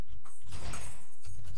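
In the horror game Good Bye Rebeca, a locked door is tried: a short, heavy mechanical rattle and thud as it refuses to open, repeated twice, close and fairly loud.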